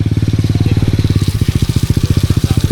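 A single-cylinder motorcycle engine runs close by with a loud, fast, even chugging pulse that holds steady throughout, with no voices over it.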